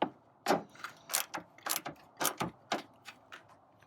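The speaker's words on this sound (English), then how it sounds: "I'm using a hand tightener here just because I don't want it to go too tight" A hand tightener drives a screw into the fuel tank brace on a Ford Ranger during a Titan Sidekick tank install, giving about a dozen close, sharp ratcheting clicks in an uneven rhythm.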